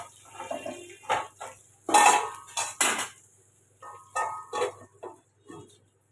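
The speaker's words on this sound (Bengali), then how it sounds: "নেড়ে দিয়ে ঢাকা দিয়ে দেবো।" A metal lid and utensils clink against a cooking pot of frying potatoes, giving several separate close clanks and scrapes with quiet gaps between them, with no talking.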